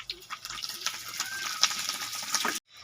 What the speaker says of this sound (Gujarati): પહેલા ફરફર તરે છે